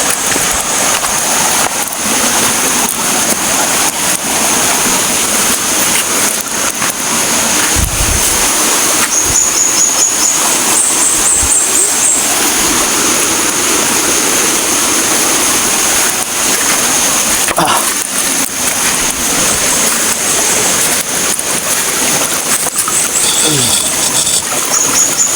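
A small river in a quiet outdoor spot gives off a steady, broadband rushing of flowing water that runs without a break, with occasional faint background sounds.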